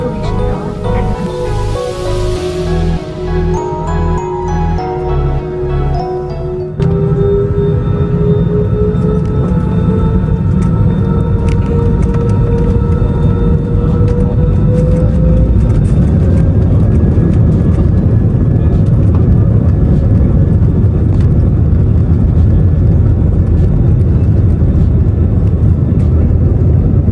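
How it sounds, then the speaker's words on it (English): An IndiGo Airbus A320 takes off, its engines spooling up into a loud, steady roar with rising tones, heard from inside the cabin; a musical chime-like sequence precedes the powerful, continuous thrust noise. "Takeoff was smooth, I'll give them that, probably because the aircraft was so light."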